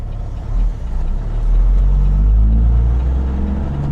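A heavy truck engine rumbles steadily at idle, rising as the driver works an 18-speed twin-stick transmission, with the low drone swelling and settling through gear and split changes near the cab.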